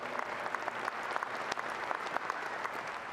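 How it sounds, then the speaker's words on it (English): Applause rises from a press conference audience for a family member introduced by a university head coach: moderate steady clapping with scattered sharper claps, fairly distant and without talk. "just give a big round of applause"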